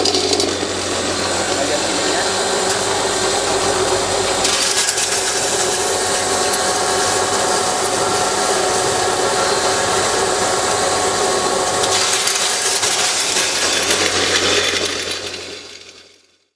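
A diesel-driven disk mill grinding machine for post-harvest crop processing runs steadily and loudly with a dense whirring, rattling grind that holds for about fifteen seconds before winding down to silence.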